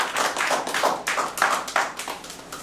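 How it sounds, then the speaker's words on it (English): Small audience clapping a brief round of applause, uneven scattered claps at close range that thin out toward the end. "So give yourself a round of applause for being courageous."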